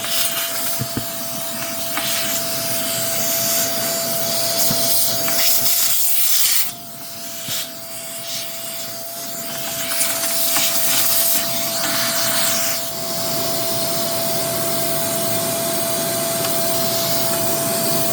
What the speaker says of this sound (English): a good strong vacuum usually does the trick